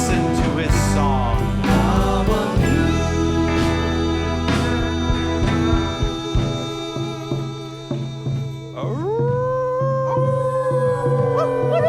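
A wolf howls, a long rising and sustained wail emerging near the end after a dense, busy stretch of layered musical and ambient sound.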